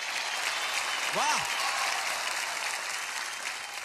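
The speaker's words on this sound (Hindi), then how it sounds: "एक बार जोरदार तालियां" Loud audience applause fills a studio on the TV singing show Sa Re Ga Ma Pa Little Champs, a steady roar of clapping throughout with a brief cheer from a voice near the start.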